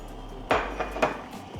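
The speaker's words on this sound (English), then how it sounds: "Gonna mix all of this together" Spoon mixing tomato soup with water, basil, oregano, smoked paprika and salt in a pot on the stovetop, a few close metallic clinks and scrapes against the pot, no talking.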